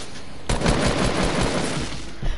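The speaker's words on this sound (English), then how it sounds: "Why the hell is this kid shooting?" Rapid automatic gunfire rattles through a Fortnite match, a loud sustained burst of fast shots that starts suddenly and continues for about two seconds, close and dense.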